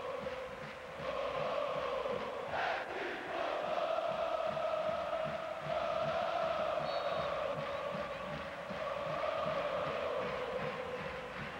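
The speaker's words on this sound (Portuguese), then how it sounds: "a torcida tá certa, escuta aí." São Paulo supporters chant in unison in the stadium during a 2005 Copa Libertadores match against Quilmes, a sustained, distant-sounding roar of voices that swells and holds without a break.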